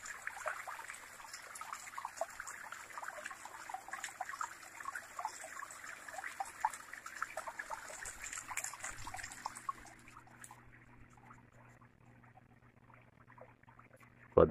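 Small cascades spill water into a freshly filled outdoor fish tank, giving a soft, steady trickling and splashing heard close by that fades quieter toward the end.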